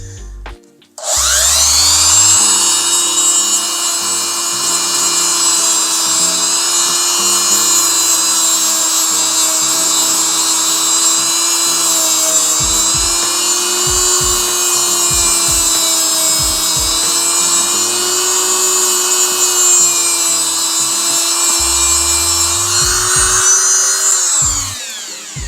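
A high-speed rotary tool polishes a 14k gold pendant set with a lab ruby, a loud, close, steady whine that spins up quickly, holds an even pitch for over twenty seconds with slight wavering, then winds down.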